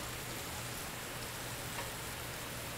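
Garlic frying in a pan during an eel dish preparation for a Christmas seafood feast, a steady, faint broadband sizzle with a rain-like crackle holding evenly throughout, no voices.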